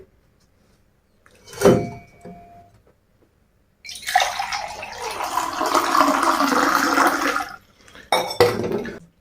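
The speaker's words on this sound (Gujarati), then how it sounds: "હું ગ્લાસમાં પાણી લઈ અને બોલને તેની અંદર મૂકી અને તેને નીચે ફેંકું" A plastic ball sitting in a glass filled with water is dropped to the floor: a sharp knock, then a long burst of splashing water lasting several seconds, and a brief final clatter, with no voices.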